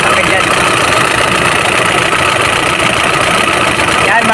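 An Isuzu Crosswind engine idling during an oil-leak check-up, a loud steady mechanical drone with a knocking undertone heard up close beneath the running cooling fan.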